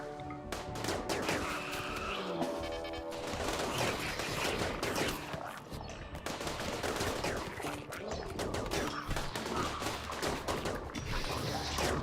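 Heavy SMG and turret gunfire in a Rimworld colony battle: dense, continuous rapid bursts from many guns overlapping throughout, loud and sustained with mechanical clatter.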